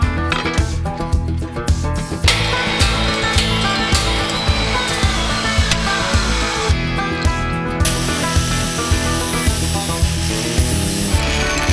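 Cutting 1-inch flat bar steel reinforcement pieces: harsh, loud power-tool cutting noise with rhythmic pulses and bursts, steady and close, pausing briefly before resuming.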